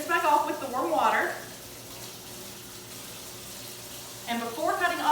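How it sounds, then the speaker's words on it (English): Warm tap water runs steadily as hands are rinsed under it, a continuous hiss of flow, with a person talking at the start and again at the end. "So after that, you rinse back off with the warm water."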